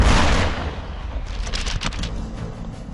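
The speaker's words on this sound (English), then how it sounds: "Firearms expert Gary James and forensic pathologist Dr. Dave Posey fired musket shots into targets to try to replicate the victims' wounds" Musket shots are fired into targets, a loud heavy report at the start followed by rolling, crackling echoes and a few sharper follow-up bangs that fade toward the end.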